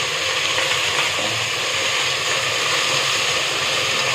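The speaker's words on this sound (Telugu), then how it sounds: "వెల్లుల్లి మసాలా వాసన పోయే వరకు కొంచెం ఉడికించాలండి" Ginger garlic masala sizzles and fries in a pan, a loud, steady, close hiss that continues without pause.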